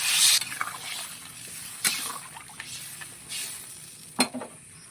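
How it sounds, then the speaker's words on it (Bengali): Spicy crab curry sizzles in a frying pan as broth goes in, a hissing wash of frying with scattered clinks and stirring scrapes, close and steady with no talk. "এবার ঝোল দিয়ে দেবো। ঝোলটা দিয়ে দেবো।"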